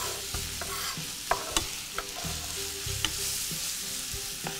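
İçli köfte börek frying in oil in a kitchen, a faint, steady sizzle broken by several sharp clinks and knocks of a utensil.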